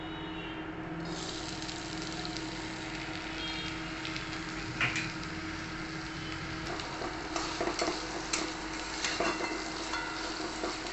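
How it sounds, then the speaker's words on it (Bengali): Potatoes fry in a little oil in a wok, a steady close sizzle with scraping stirs and clinks every few seconds and no talking. "এবার আলুগুলো এই তেলের উপরে দিয়ে ভেজে নেব"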